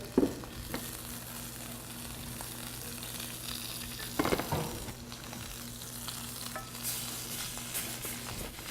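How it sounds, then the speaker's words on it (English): Pork searing in a small hot pan with oil gives a steady low sizzle, broken by a few louder bursts of crackle and stirring clatter near the start and in the middle. "So the pan's a little bit small for the pork, so I'm just going to sear that off"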